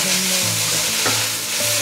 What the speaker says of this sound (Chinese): 把豆包放进来，快速翻炒一下